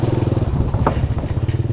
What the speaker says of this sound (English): When there is a motorbike going through the bridge, it's not the best